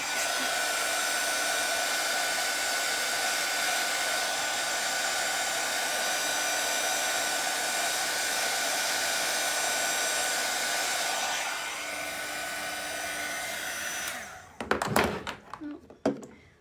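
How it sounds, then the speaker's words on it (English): Hair dryer blowing on a paint stencil for an address sign, a loud steady whooshing hum that drops slightly near the end and cuts off, followed by a few handling thunks and taps. "I'm gonna throw the dryer on it just a bit"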